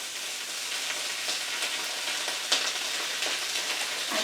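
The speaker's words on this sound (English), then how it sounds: "I'm just going to add the sauce to it." Vegetables sizzle steadily in a hot pan on an electric cooker as sauce is poured in, a close, even frying hiss with a brief sharper burst partway through and no voices.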